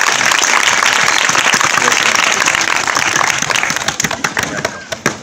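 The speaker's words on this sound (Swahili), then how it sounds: "Tupige makofi." An audience at a school gathering breaks into loud sustained applause, dense clapping that thins into scattered individual claps toward the end.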